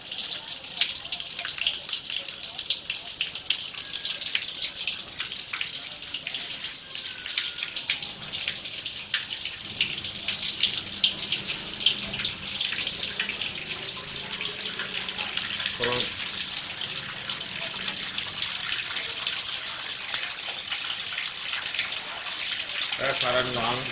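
Hot water runs steadily out of a herbal distillation setup used for cumin and similar extracts, a continuous close splashing flow that lasts throughout, with faint speech beneath it.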